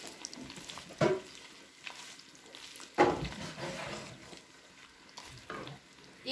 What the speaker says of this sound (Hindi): तो इसको जी साथ ही हम भून लेते हैं